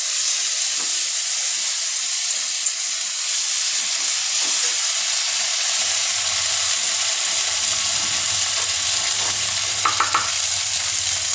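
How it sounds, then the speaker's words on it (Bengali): Ginger paste and chili-cumin paste fry in a pan with a loud, dense, even hiss of sizzling oil, close and continuous. A few soft stirring taps come near the end. "আগে একটু ভেজে দিই।"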